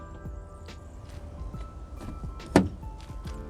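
Remote locking of a rental car's doors through a GPS fleet system, heard as a single sharp actuator clunk partway through against a low mechanical hum and faint background rustle.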